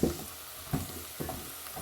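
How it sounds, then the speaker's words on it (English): Onions and meat fry together in a pot for pilau, giving a steady sizzle broken by three soft stirring scrapes spaced about half a second apart. "So I'm just frying my onions with my meat together"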